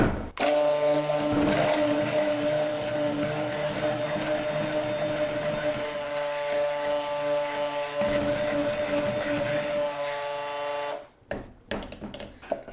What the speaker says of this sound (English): so I'm going to blend this up a bit